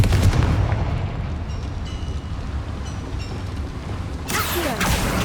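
Fiery blast from the Confringo spell in the video game Hogwarts Legacy, a loud rumbling roar with crackling impacts that holds steady, then a sharper bright burst near the end, with no speech.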